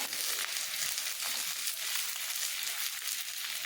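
Radish and ivy gourd go into a frying pan with other vegetables, giving a steady, bright sizzle that stays even and fairly close throughout, with no talking.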